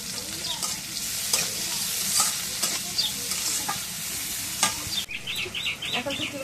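Dried fish (shutki) frying in hot oil, a steady close sizzle with scattered sharp crackles and occasional stirring scrapes, no voices.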